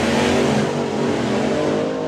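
Two drag racing cars at a national finals meeting, one running on methanol and one on petrol, rev steadily and loudly in a dense, continuous engine roar close by, with no talking.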